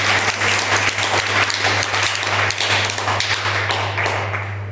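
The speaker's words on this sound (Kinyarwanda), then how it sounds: "dusubire dukomera amashyi Imana" Sustained applause from a church congregation filling a packed hall, dense steady clapping throughout with a constant low electrical hum underneath, tapering slightly at the end.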